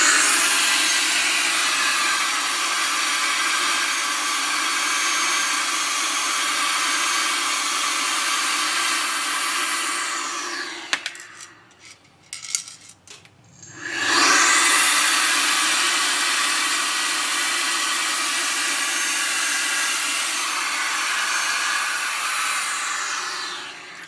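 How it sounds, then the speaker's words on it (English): A KICA Jetfan Max blower fitted with a hoover attachment sucks dust, giving a loud steady high-pitched whoosh that cuts out briefly midway with rattles, then spins back up and runs on. "Jetfan Max with the hoover attachment in the front"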